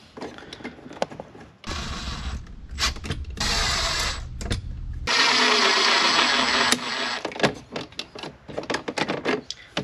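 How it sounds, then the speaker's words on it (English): A power screwdriver drives a couple of screws to mount an aftermarket stereo unit inside a camper van, with several loud whirring bursts of a few seconds each, broken by clicks and handling noises nearby. "I'm going to put a couple screws in it"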